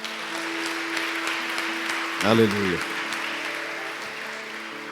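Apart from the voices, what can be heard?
church congregation applauding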